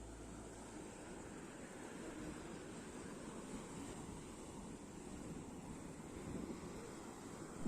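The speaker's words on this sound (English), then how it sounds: "You can hear the sound of the sea" Sea waves wash onto a beach beside Chilika Lake in a steady, continuous roar of surf with some wind rumble, fairly even throughout and swelling slightly near the end.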